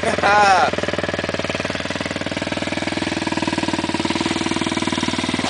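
A 305 motorcycle engine idles close by on a street, a steady, rapid, throbbing rumble with an even pulse throughout, and a brief louder burst at the start as a voice speaks over it.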